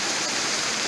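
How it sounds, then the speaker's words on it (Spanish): Steady, loud rush of falling water from the Islavita waterfall in Chinácota, Colombia, a broad continuous roar heard up close with no break or voices. "en estos momentos estamos en la cascada Islavita"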